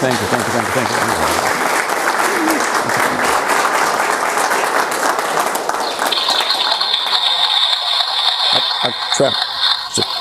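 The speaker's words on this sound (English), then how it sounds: "I travel with my own applause track" A recorded applause track played by a returning former minister fills the room with dense, continuous clapping and cheering that stays loud throughout, thinning slightly near the end.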